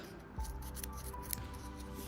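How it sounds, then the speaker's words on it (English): Small scissors snipping through curtain fabric while making an attached pelmet curtain, a single close, soft cut near the start followed by faint rustling handling. "Use my lovely little scissors"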